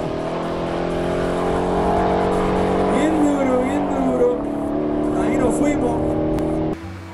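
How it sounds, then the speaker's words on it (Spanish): A modified 1000 hp Mercedes SL55 AMG engine drones loudly and steadily at a drag race, with a rising and falling rev partway through, while people talk over it. "escucha bien duro ese carro"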